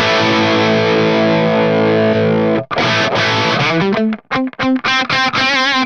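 Electric guitar played through a Fractal AX8 amp block set very high, edging toward breakup: a long sustained distorted chord rings out, then a run of choppy, muted riffs and short stabs with brief gaps between them.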